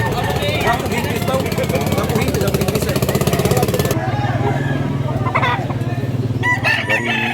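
Roosters crowing repeatedly amid a flock of fighting chickens at a farm, with clucking and a loud, dense background; people talk nearby.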